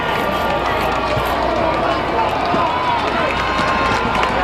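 Crowd at a high school varsity football game between Darien and Greenwich, a steady wash of cheering and noise under a play-by-play voice talking over it throughout.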